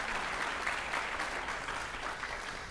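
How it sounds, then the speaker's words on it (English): At a Southwest Florida climate and community summit, an audience gives a warm, continuous round of applause for panelists, a dense, even wash of clapping heard from a slight distance. "So let's welcome them with a warm round of applause."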